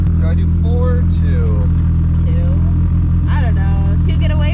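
Polaris RZR Pro R with a full Stage 2 aftermarket exhaust idling loud and close, a deep steady rumble running the whole time under excited talk from several people.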